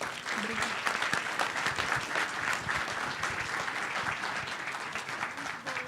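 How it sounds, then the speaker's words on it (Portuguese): Audience applause after a talk on search engines with Python and Elasticsearch, steady dense clapping sustained for the full six seconds at moderate volume. "Então, pessoal, batam palmas, porque ela merece"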